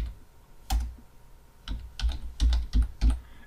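VBA code being typed on a computer keyboard for an Excel macro: short, soft, close bursts of keystrokes, pausing briefly before a quicker flurry of clicks.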